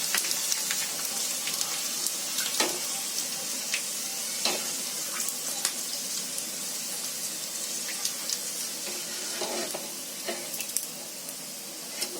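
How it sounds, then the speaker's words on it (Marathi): Sabudana chakli, a sago spiral snack for fasting, deep frying in hot oil, giving a steady dense sizzle with scattered crackles and occasional stirring clinks throughout, no talking. "आता उपवासाची साबुदाण्याची चकली आहे, हे पण मी तुम्हाला तळून दाखवते."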